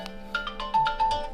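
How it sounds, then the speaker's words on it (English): A work phone plays a short electronic ringtone with a few bright, repeating tones at moderate volume, with no voices. "Work phone."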